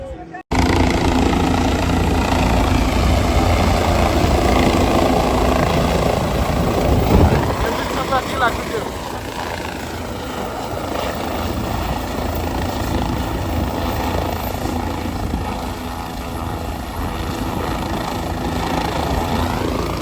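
A landing helicopter's loud, steady rotor and engine roar fills the whole stretch, close by at Kedarnath, with people talking faintly underneath.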